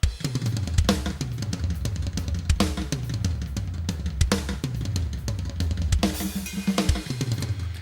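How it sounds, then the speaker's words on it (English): Metal drum preset played back from an A.I. mix, a tight, punchy kit with fast kicks and sharp snare hits in a steady driving pattern, loud and alone. "this is what the drums sound like out of the box with this preset"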